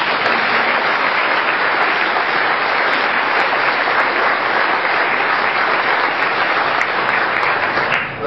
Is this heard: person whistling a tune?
no